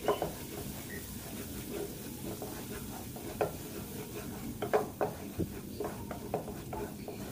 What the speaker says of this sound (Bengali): ঢাকনাটা খুলে আবারও একটু কিছুক্ষণ মশলাটা নেড়ে নিব।